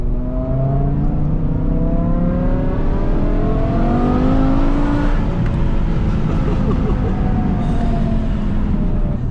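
A 6-speed BMW M5 engine revving hard while driving, loud and close, with rising and falling engine tones as it pulls through the gears over steady road and tire noise.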